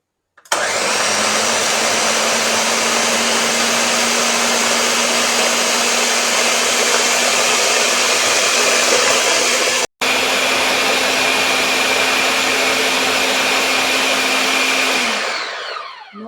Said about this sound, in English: So I'm about to blend my fruits now